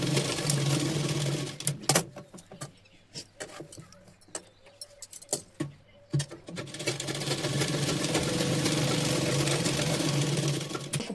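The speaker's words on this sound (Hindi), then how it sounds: "यहाँ पर डॉट की सिलाई लगा लेंगे" A sewing machine stitches dot stitches along a torn, trimmed section of a blouse, with a loud whirring run at the start, a pause filled with small clicks and handling, then a long steady stitching burst to the end.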